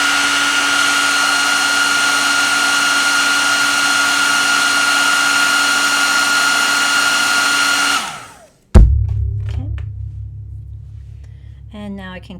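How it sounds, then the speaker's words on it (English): A handheld blow dryer drying acrylic paint blows a loud, steady whir for about eight seconds, then cuts off; a voice speaks after it stops. "I can just use my blow dryer."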